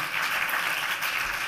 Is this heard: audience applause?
yes